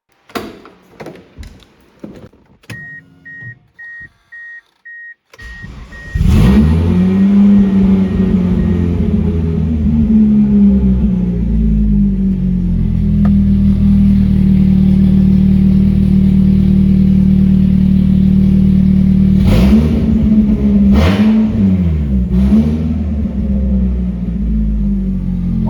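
A turbo-less Eagle Talon with a Flashark header and open downpipe cranks over and starts, then idles loud and rough with a deep, steady rumble, blipped by a couple of sharp revs near the end; nobody speaks.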